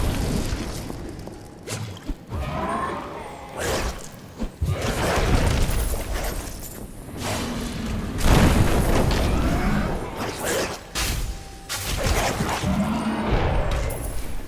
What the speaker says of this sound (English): I don't want to be around for this explosion.